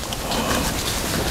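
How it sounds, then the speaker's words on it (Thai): Rain falls on a forest beside a stream, a steady dense patter of drops on leaves and undergrowth that holds evenly throughout at close range. "ฝนตกใส่พอดี"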